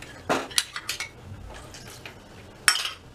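A spoon scrapes and clinks against a kadai while a thickening milk mixture with saffron is stirred, giving several sharp metallic knocks amid soft scraping, with one louder clank near the end.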